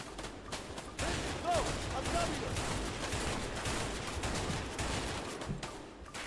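Sustained gunfire in the co-op video game A Way Out: dense, rapid volleys of shots crackle almost without pause for several seconds at a steady, fairly loud level.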